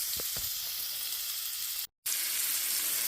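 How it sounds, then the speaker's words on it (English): A burger sizzles steadily in a pan with bacon, a close, continuous frying hiss that cuts out for a moment before resuming, with no talking. "Cook this burger both sides, getting all the flavor from the bacon."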